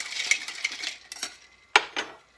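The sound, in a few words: stirring a cocktail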